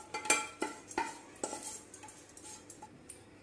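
Metal spoon stirring tempering into oats idli batter in a bowl, giving a string of close, light clinks and scrapes with soft wet mixing between them and no speech.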